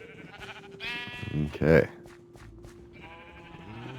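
Minecraft sheep bleat in a quick pair of wavering cries near the middle, loud and close, with a voice talking before and after and a steady low game hum underneath.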